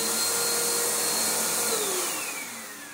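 A Bissell Powerforce bagged upright vacuum cleaner runs with a loud, steady whining roar, its motor pitch sliding downward as it begins to wind down near the end.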